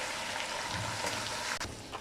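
Chicken sizzles in a pan while being fried for Balochi biryani, a steady hissing crackle throughout with no voices.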